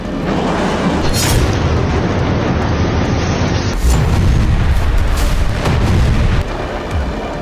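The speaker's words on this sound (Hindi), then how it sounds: "आईडीएफ ने गाजा पर आसमान से मिसाइलें दागी तो एक इमारत पूरी तरह से तहस नहस हो गई।" Loud, continuous rumbling blasts from missile strikes on a building in Gaza, a dense roar of booms and crashing debris that surges several times and fills the whole stretch with no voices.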